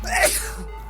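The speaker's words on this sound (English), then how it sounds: "You just sneezed out bacteria" A single short, sharp sneeze burst, close and fairly loud, fading quickly into quiet.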